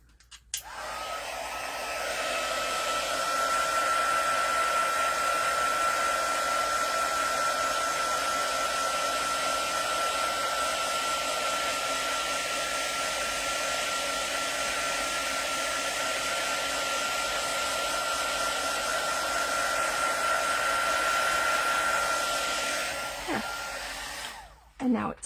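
A craft heat tool, like a hair dryer, sets Oxide ink on a decorated Christmas box. It switches on and blows as a loud, steady whine with a constant high tone for about twenty seconds, then clicks off.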